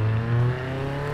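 Engine in the Automation car-building game revving during an automated test: a loud, steady, harmonic whine that steps down in pitch partway through, with no talking.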